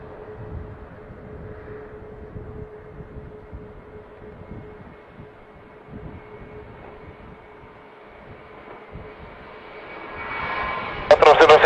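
An airplane takes off at night, its engine rumble building steadily from a low distant drone to a louder roar, with a faint radio voice early on and a sharp rising burst at the very end.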